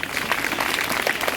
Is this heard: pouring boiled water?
no